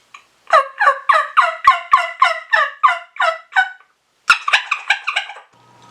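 Turkey gobbles imitated on a mouth call used for turkey hunting: a long rolling series of rapid, throaty gobbling bursts, close and loud, followed after a short pause by a second, briefer gobble.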